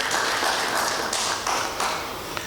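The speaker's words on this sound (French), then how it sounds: "Ça mérite des applaudissements" Audience at an official launch ceremony for a presidential innovation prize applauding in steady bursts, a dense wash of many hands clapping that swells and fades over a couple of seconds.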